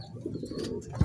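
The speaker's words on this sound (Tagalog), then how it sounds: "Ayan ibon natin." A short pigeon coo at a loft landing board, low and soft, over a faint background murmur of other birds.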